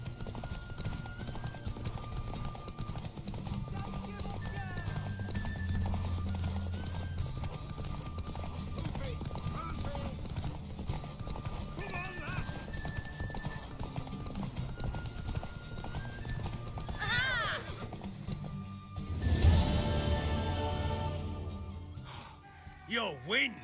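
Horse hooves clip-clop rhythmically under game music and voices in The Witcher 3, with a whinny and snorts, then a burst of louder hoofbeats and noise near the end as the race starts.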